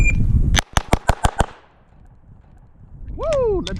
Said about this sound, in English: Okay, 6 shots from a draw.